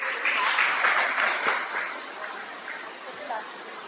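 Loud applause from participants at a stress-relief meditation camp on its celebration day: a dense burst of clapping that gradually tapers off over a few seconds.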